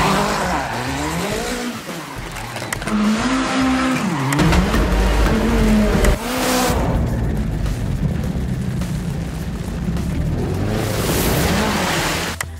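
A modified car with a 350 hp 2.3 liter turbocharged four-cylinder EcoBoost engine drives hard, its loud engine note rising and falling through revs, with tire squeals and skids.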